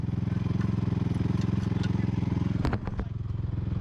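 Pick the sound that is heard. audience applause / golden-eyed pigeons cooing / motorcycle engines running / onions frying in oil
motorcycle engines running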